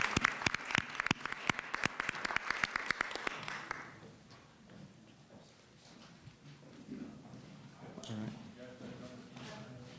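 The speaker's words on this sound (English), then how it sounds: "So I propose a round of applause, and I'll give one anyways." A small audience at a Mountain View civic roundtable gives a brief round of applause, sharp scattered claps for about four seconds, then fades into murmuring and people talking.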